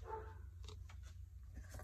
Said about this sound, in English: I am so sorry if you can hear the dogs barking.